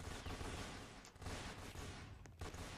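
Machine gun fire in a Roblox Fortnite simulator game clatters as a dense, continuous barrage of shots, loud and rough, with short pauses between bursts.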